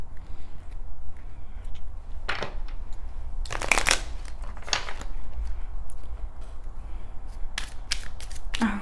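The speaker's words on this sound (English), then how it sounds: "I'm gonna shuffle these though quick." A deck of tarot cards being shuffled by hand, with a few sharp riffling bursts and flicks set apart by short pauses, close and crisp over a quiet room.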